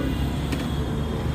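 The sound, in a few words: Hero Honda motorcycle engine running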